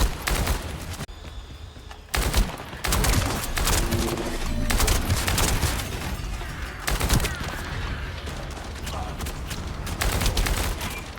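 Dense, continuous gunfire from newly equipped guns in the looter shooter The First Descendant, with rapid bursts and impacts layered over one another, loud and close, broken by a brief lull near the start.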